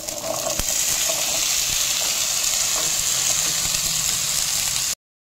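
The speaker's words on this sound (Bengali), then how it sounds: "এরপর আমি যে সবজিগুলো কেটে রেখেছি সবজিগুলো আস্তে আস্তে এখানে দিয়ে দিচ্ছি।" Cut vegetables dropped into hot oil with spices in a kadai for a restaurant-style veg stew, sending up a loud, continuous close-up sizzle with a brief knock near the start before it cuts off abruptly.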